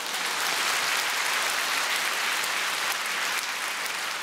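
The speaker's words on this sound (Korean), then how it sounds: "맞는다고 생각하시면 박수 한번 해요." Audience at a church women's association national retreat applauds in a steady, dense burst of clapping that fills the room, loud and sustained, with no talking over it.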